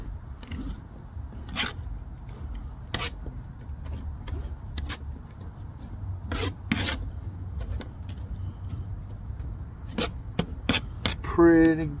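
Indian burger mixture with parsley is mixed by hand at a subzero camp, giving soft squelching and rubbing under scattered sharp clicks and knocks, close by, with a brief louder rattle at the end.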